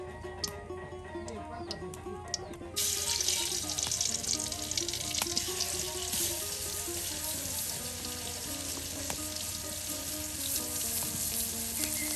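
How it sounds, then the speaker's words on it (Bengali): Chicken meat hits hot oil in a village-style pot a few seconds in, bursting into a loud, continuous sizzle that holds steady, with faint tonal sounds running underneath. "আর এখন এখানে মাংসটাকে ভেজে নেওয়া হবে"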